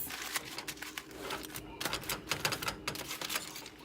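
Aluminum foil pack holding garlic steak and loaded potatoes being folded and wrapped shut by hand: close, crisp crinkling and crackling in continuous irregular bursts, with no talking.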